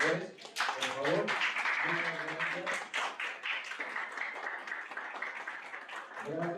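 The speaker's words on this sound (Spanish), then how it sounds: "Quiero pedirles un aplauso muy fuerte para todos los organizadores, por favor." Audience applause for the organizers at a book presentation, a dense burst of many hands clapping that swells and continues steadily for several seconds before thinning out, with a voice briefly audible near the end.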